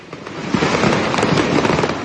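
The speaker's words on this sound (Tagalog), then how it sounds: "nagliyab na rin ang ibang mga paputok hanggang sa nadamay na ang lahat ng mahigit 10 stall" Dense, continuous crackle of firecrackers and fireworks bursting at a row of market stalls caught in a fire, loud and chaotic with overlapping pops throughout.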